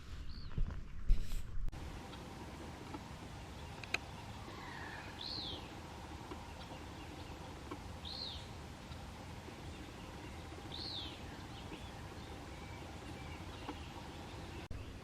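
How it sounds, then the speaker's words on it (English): Three distant squawking parrot calls ring out a few seconds apart over steady outdoor background noise in South Texas, with a brief rustle at the start. "I hear parrots in the background somewhere"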